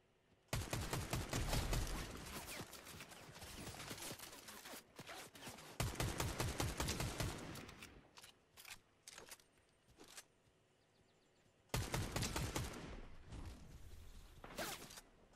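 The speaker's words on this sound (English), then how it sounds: "This dude is shooting at me." Rapid bursts of automatic gunfire from the Fortnite video game crackle loud and close, in several volleys separated by short quieter gaps.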